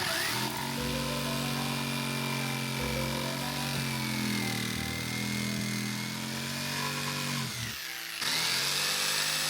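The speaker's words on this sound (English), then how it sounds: "you can just drill a hole" Power drill boring a hole through plywood for a jigsaw cut, a loud continuous whining motor with shifting pitch that bogs down briefly near the end before running freely again.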